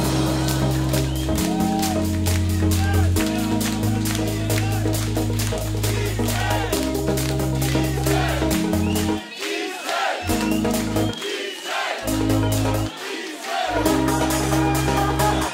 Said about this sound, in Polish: wszyscy klaszczą